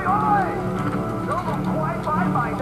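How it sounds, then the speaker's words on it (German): A boat motor drones in the shooter Call of Duty: Black Ops, a low engine hum with rising and falling revs that sweeps up and down against steady background noise. "Das war ein Motor."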